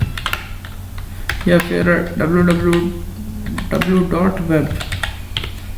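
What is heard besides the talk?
typing on a computer keyboard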